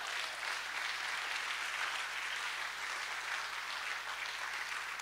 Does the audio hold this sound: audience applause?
yes